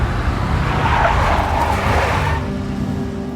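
A big black Mercedes in the Max Payne video game drives past with a loud, steady engine roar and a tire-skid hiss that swells, then eases slightly toward the end.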